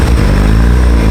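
A Mazda RX-7 Veilside rotary engine revs loud and close, a brief continuous buzzing roar with no voices over it.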